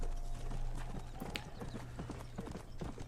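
Steady hoof clip-clop of a horse being ridden in the Red Dead Redemption video game, a quick rhythmic gait running through the whole stretch, fairly close and moderately loud, with a faint whinny-like sound partway through.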